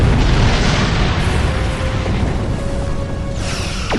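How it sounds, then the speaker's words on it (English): Torpedo explosion in the space combat game Star Trek Online, a loud, sustained booming roar that fills the whole span with dense rumbling and a faint tonal hum underneath. "so that's a torpedo."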